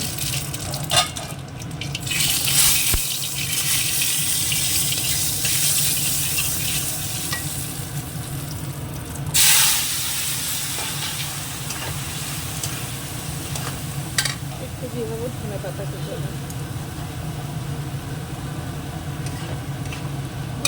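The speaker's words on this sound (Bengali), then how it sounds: "কড়াইতে তেল দিয়েছি গরম হয়ে গেছে এবার এর মধ্যে দিয়ে দেবো একটা শুকনো লঙ্কা" A dry red chili sizzles and fries in hot oil in a wok, giving a steady close crackle with stirring and a few clinks, and nobody speaks.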